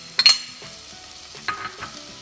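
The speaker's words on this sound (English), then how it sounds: "So let's fry this all over" Onion and chopped garlic frying in oil and being stirred: a few sharp scraping clatters over a faint low sizzle, close by, no speech.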